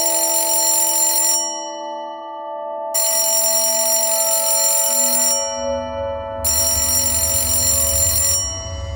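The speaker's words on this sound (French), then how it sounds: "je parviens à faire retentir la sonnette du vieux téléphone à plusieurs reprises" An old telephone bell rings loudly in three long bursts separated by short pauses, close and dominant, with a low rumble rising underneath in the later part.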